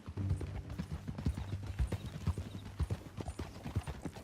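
Steady clip-clop of horse hooves walking at an even rhythm in the video game Red Dead Redemption 2, close and clear, with a low background tone running underneath.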